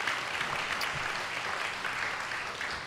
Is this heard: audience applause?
yes